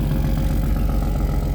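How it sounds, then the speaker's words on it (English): A 3.4-litre turbocharged VR6 in an Audi TT idles around 1500 rpm, smooth and quiet, with a steady low rumble and faint clatter through an exhaust whose large 4-inch flapper valve doesn't seal, leaving a constant exhaust leak. "a big 4-inch flapper that doesn't quite seal properly, so it's a permanent exhaust leak"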